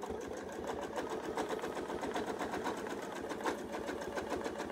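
A sewing machine stitches a rulerwork quilt design, running steadily and continuously at close range with a fast, even motor hum and needle rhythm throughout, no voices.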